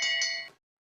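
A single bright metallic bell strike rings out at a long-track speed skating race at the Calgary Oval, signalling the last lap, then its tone quickly dies away to silence.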